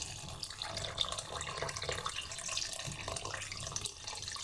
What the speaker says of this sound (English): And now I just add in little by little more water